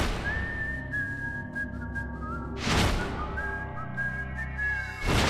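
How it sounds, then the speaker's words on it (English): A person whistles a catchy, bright melody of sliding notes in two phrases, each ending with a sharp bang-like hit. "has a gift for whistling undeniably catchy melodies"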